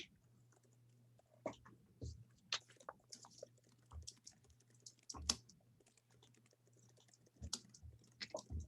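Someone types quickly on a computer keyboard in short bursts of clicks, with quiet gaps between bursts and a steady low hum underneath, close and fairly soft.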